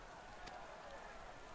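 Rain falling in the video game Final Fantasy XIV, heard as a quiet, steady hiss of drops that holds evenly throughout, with a brief brighter patter near the start.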